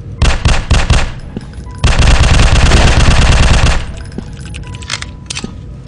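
Rapid automatic gunfire in the horror shooter Slender Man Must Die: loud, close bursts of shots, a sustained two-second volley, then scattered single rounds.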